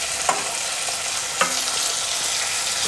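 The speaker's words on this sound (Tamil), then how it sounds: "வெங்காயம் தக்காளி ரெண்டையும் சேர்த்தே நல்லா வதக்கி எடுத்துக்கோங்க." Onion and tomato sautéing for a chicken gravy, a loud dense sizzle running throughout with two brief stirring knocks of the spatula.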